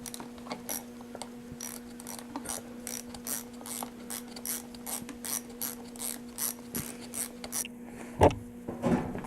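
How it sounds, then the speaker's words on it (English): A ratchet with a 5/16 socket clicks in quick repeated bursts while loosening the carburetor nuts on a Craftsman chainsaw, close and fairly quiet, ending with a louder clunk near the end. "Now with your 5/16 socket, you can remove these 2 nuts that hold the carburetor on."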